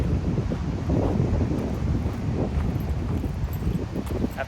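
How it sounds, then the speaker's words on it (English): Strong wind by the sea buffets the microphone in a constant loud roar, with a dull rumble like surf underneath and no talk. "It seems really windy."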